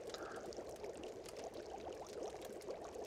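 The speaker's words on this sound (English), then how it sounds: "We're going to throw some out there and leave some water here anyway." Water poured out in the video game The Long Dark, a steady trickling splash running continuously and fairly quiet, with no talking over it.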